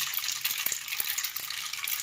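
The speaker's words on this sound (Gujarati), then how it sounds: "રાઈને બરાબર ફૂટવા દેવું." Mustard seeds spluttering in about 50 grams of hot oil for a dhokla tempering, a dense bright hiss dotted with small crackling pops, close and steady, with no voices.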